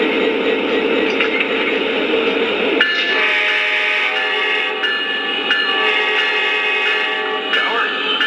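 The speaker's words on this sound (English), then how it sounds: "Adjust how much horn sound you want to use depending on your situation when you're running the train." Lionel O scale Union Pacific #4141 SD-70ACE model locomotive sounding its electronic horn, a long steady multi-tone blast that shifts chord partway through and holds loud and continuous to the end.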